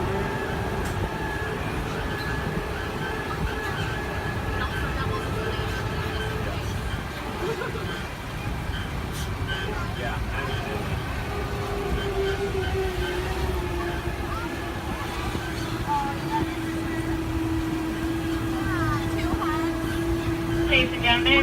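A Disneyland tram rolls steadily past Downtown Disney with a constant low rumble and road noise, while a tour announcer's voice and the hubbub of riders carry over the top throughout.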